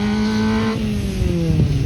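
Tuned VW Polo drifting on gravel at a motorsport gravel event, a loud close engine revving with a falling pitch and a brief skid or throttle burst near the end.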